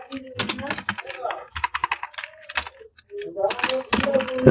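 Fingers tapping on a computer keyboard while working in Microsoft Office, with bursts of quick clicky keystrokes heard close up and a person talking over much of the typing.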